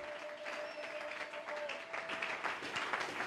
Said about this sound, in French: Chapa makofi mazuri.